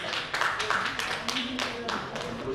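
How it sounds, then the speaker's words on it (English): Applause from an audience at the eJharkhand Summit 2016 conference, a steady wash of many hands clapping at moderate volume for a couple of seconds, with a voice speaking over it. "Welcome him with a round of applause"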